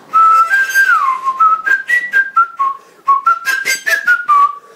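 A clear, melodic whistled tune with short sliding notes, played in bursts with brief pauses, close and alone.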